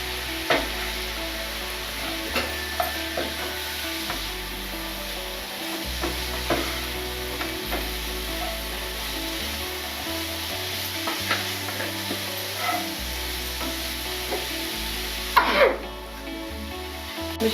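Chilli powder and spices frying in a pan for home-style chicken fried rice, a steady close sizzle with repeated scraping strokes of a spoon stirring through the mixture, no talk over it.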